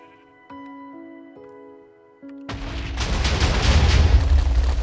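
A Minecraft explosion blasting a crater in the ground follows a few soft ticking tones, then bursts into a loud, sustained broadband roar that swells and keeps rumbling to the end.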